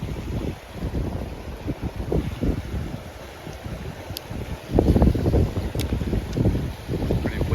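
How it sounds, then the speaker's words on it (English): Wind buffeting the microphone beside a river while fishing for rock bass in western North Carolina, a steady low rumble with gusts that swell louder toward the end, with faint water movement underneath. "Pretty windy, it's kind of hard to"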